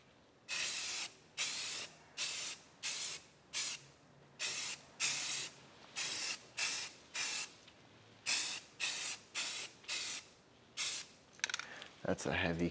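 Spray paint hisses from an aerosol can onto a rusty car panel in about fifteen regular bursts, each roughly half a second long, close and fairly loud with short gaps between them.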